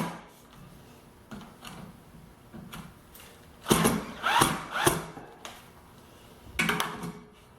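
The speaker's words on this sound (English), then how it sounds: "I'm just going to attach a plywood scrap with a couple of 1-inch flathead screws" Screwdriver driving a couple of 1-inch flathead screws through a plywood scrap into a table saw pattern master, heard as close mechanical ratcheting and ticking clicks, with louder bursts of grinding turns in the middle and near the end.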